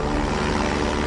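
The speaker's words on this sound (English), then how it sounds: "the plane must lift off as quickly as possible to get over the mountains" A small plane climbs hard after takeoff to clear mountains, its engine and propeller a loud, close, steady droning roar filling the short moment, with no voices.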